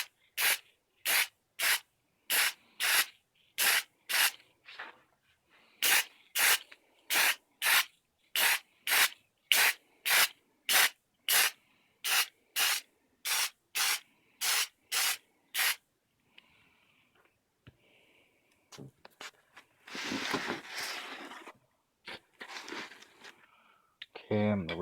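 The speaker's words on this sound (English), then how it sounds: "I'm just going to hit it with some high gloss lacquer" High gloss lacquer sprayed from an aerosol can onto a DIY action figure base, a long run of short, evenly spaced bursts, then quieter handling and rustling near the end.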